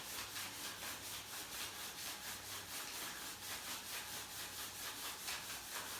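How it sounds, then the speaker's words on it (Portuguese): Wood is sanded in steady, rhythmic back-and-forth strokes, a close scratchy rasp repeating evenly throughout with no voices. "Uns começaram a lixar."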